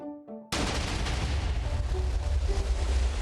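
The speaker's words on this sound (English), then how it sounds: "Huge explosion." In a Minecraft-style video game, a few short tones give way to a sudden, huge TNT chain explosion that roars on with rumbling, crackling blasts for several seconds.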